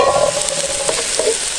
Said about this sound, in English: That onion's starting to sizzle up nicely now.